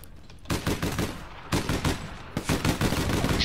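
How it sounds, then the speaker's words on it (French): Bursts of gunfire in the online shooter APB Reloaded, several rapid volleys of automatic shots in clusters with short gaps, fairly close and loud. "J'entends que ça tire là, mais je vois pas où"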